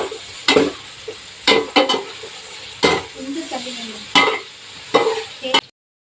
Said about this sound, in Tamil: நல்லா கிளறி வச்சுக்கலாம்.